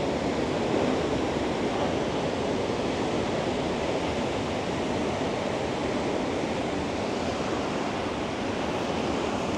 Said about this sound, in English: these waves are massive today